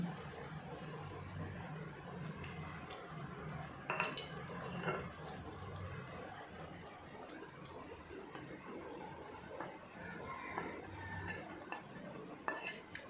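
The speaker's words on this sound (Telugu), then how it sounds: "వేసుకొని మొత్తంగా ఇలాగా కలుపుకోవాలి" A spoon scrapes and clatters against a pan while fried paneer and capsicum are stirred into a masala, with steady close clinks and scraping over a low background hiss.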